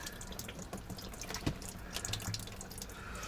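An oil-and-water mix drains from a car's drain plug, pouring and splashing in a steady, gurgling stream with a few drips, fairly faint and with no one talking.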